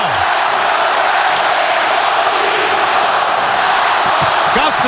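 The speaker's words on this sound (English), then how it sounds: "Listen to this crowd." Hockey arena crowd roaring during an NHL game between the Toronto Maple Leafs and Detroit Red Wings, a loud sustained wall of cheering with a commentator talking over it.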